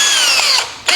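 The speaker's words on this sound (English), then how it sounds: "So we're going to use this drill bit, which is a left-handed drill bit." A power drill turning a left-handed drill bit into a broken bolt, its motor whining at a high steady pitch that slowly drops, then cuts off and briefly starts up again, loud and close.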